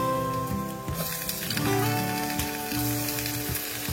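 Peppers and onions sizzle and crackle steadily in a hot pot, with a few clinks and stirring scrapes over the constant frying hiss.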